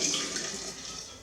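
Water that was boiled earlier pours into a container holding tea bags, a brief steady splashing stream that fades slightly toward the end.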